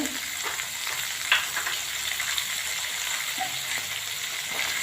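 Bay leaf, black cardamom, cloves, raisins, red and green chillies and garlic frying in hot oil for pea rice, giving a continuous crackling sizzle at moderate loudness with an occasional stir or pop and no voices.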